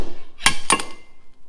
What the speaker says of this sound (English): use this slide hammer to eject this bearing